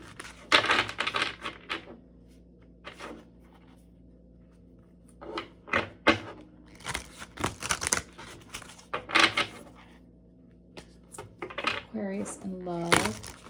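Tarot cards being shuffled for an Aquarius love reading, giving repeated bursts of crisp riffling and tapping in uneven clusters, with someone talking between and over them.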